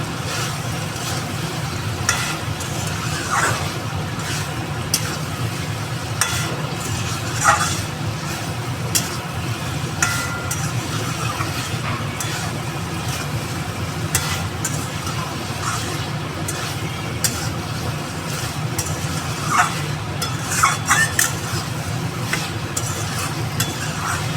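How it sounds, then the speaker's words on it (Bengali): Prawns sauté in a pan, giving a steady low sizzle with soft, irregular scraping clicks from stirring throughout. "এবার একটু কষিয়ে একটু জল দিয়ে চাপা দিয়ে দিই।"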